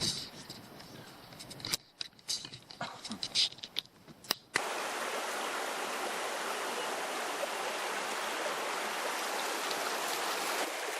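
A steady rush of flowing creek water fills the second half, after several seconds of intermittent knocks and rustling.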